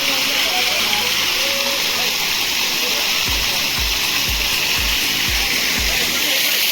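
Chakratirtha waterfall in Keonjhar, Odisha roars with a dense, loud, unbroken rush of falling water, and a series of low thumps sounds near the end.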